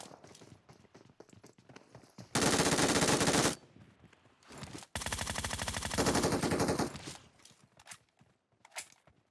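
Bursts of automatic gunfire from PUBG Mobile, a long burst followed by a second sustained volley, with scattered footsteps and smaller noises in between.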